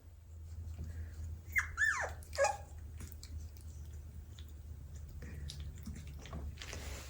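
Three-week-old Aussiedoodle puppies whimper and squeal in a few short, high cries, with a soft, steady hum in the background.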